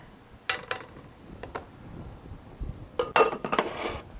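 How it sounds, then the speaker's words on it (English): Metal lid set back onto a cooking pot of Asian basil chicken, giving a few light clinks and a cluster of sharper metallic clatters near the end, close by and fairly quiet. "Put the lid back on it to keep it warm."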